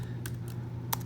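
A command typed on a computer keyboard, with a few quiet, sparse key clicks set against a low steady hum.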